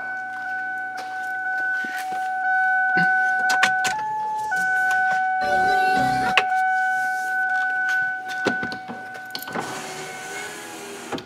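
Rear power window on a Ford Taurus SEL runs with a steady electric motor whine that shifts pitch midway, then stops, followed by scattered clicks and rustles.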